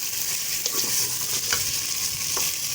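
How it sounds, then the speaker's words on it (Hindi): Potatoes frying in a pan, with a steady close sizzle broken by a few soft scraping strokes as they are stirred, and no voices. "आप लोगों को अच्छे से हिला के दिखाएंगे"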